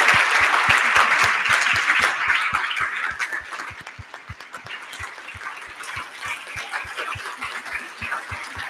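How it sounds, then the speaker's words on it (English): Audience applause after a morning lecture and book-signing event, loud and dense at first, then thinning and settling into steadier clapping, with a regular low thump pulsing beneath it throughout. "Let's give him a round of applause."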